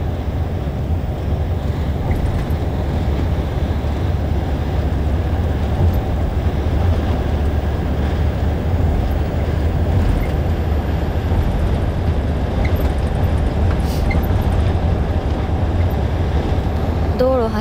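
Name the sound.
car driving on road, heard from inside the car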